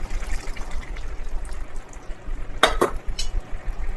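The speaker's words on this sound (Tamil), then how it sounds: "இதை ஊற்றி நல்லா மிக்சிங் பண்ணிக்கலாம்." Coconut milk poured into a prawn curry and stirred in a pan, a soft continuous bubbling simmer with a couple of sharp spoon scrapes and clinks against the pot near the end.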